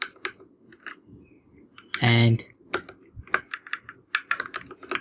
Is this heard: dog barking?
no